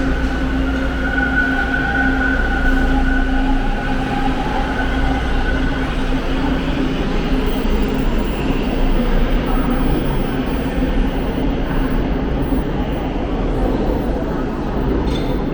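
Inside a packed, moving Toronto subway train, a continuous low rumble of wheels on track with faint squeals and clinks, a steady close roar, while muffled passengers talk beneath it.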